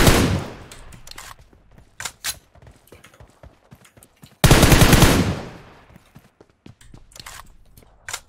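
Gunfire in the mobile battle royale game PUBG Mobile: sharp bursts and single shots scattered across the clip, with two loud, dense volleys at the start and near the middle, fainter shots between.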